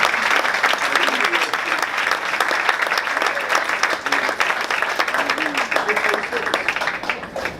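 Loud, dense applause fills a church congregation, steady and close for the whole stretch, with cheering voices mixed into the clapping.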